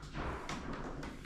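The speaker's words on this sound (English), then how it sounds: "I hear some knocking over there." Knocking inside a room of an old hotel comes as a few soft, dull thuds spaced about half a second apart, faint against a quiet indoor background.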